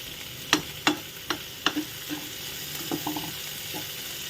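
Mushrooms are stirred and fried in a pan, with a steady sizzle under a run of sharp scraping strokes from a utensil, about four firm scrapes, then softer stirring. No voices.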